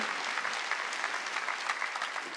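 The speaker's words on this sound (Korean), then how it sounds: "박수치라 이거. 박수치라." A church congregation at a Sunday worship service bursts into sustained, dense applause, a continuous even roar of many hands clapping together from start to finish, with no talking over it.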